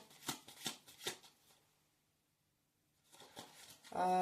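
Tarot cards are shuffled by hand, with a few quick riffling bursts, a pause of near silence, then another run of shuffling up close.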